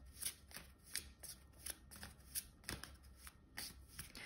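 Oracle cards are handled and shuffled in soft, rhythmic riffling bursts, close and quiet, with papery flicks repeating steadily and no voice over them.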